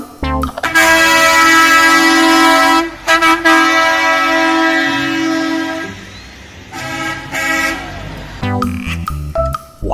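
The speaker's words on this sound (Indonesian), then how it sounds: "Widih, ada truk trailer" A truck trailer horn sounds loudly and close by in long, sustained blasts separated by short breaks, then ends in a few quicker toots, with engine rumble beneath.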